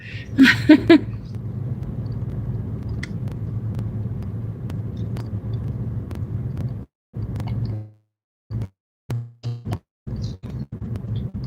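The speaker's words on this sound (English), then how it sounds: "Traffic is crazy" Road traffic rumbles as a steady low drone from inside or beside a passing vehicle, broken by a few short gaps and scattered clicks and knocks toward the end.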